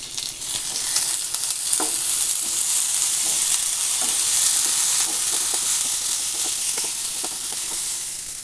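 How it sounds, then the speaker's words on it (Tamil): Onions sizzle and fry steadily in hot oil with curry leaves and ginger garlic paste, an even, close hiss of sautéing for mutton chukka, with occasional stirring clicks and no talking. "இப்போ இது கூட ஒரு கொத்து கருவேப்பிலை, 1 ஸ்பூன் இஞ்சி பூண்டு பேஸ்ட்டு சேர்த்து இந்த பச்சை வாசனை போகிற வரைக்கும் வதக்கிக்கலாம்."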